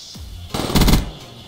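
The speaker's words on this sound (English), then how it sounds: "This gun kills in one burst." An M8A7 rifle fires a short, loud burst in a video game, its rapid cracks running together in under a second, with no talking.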